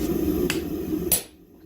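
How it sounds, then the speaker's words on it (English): A blacksmith's hammer drives a punch through tong steel to make rivet holes, giving two sharp metallic strikes about half a second apart over a low background hum, then quiet. "I'm gonna start punching the holes for the rivet."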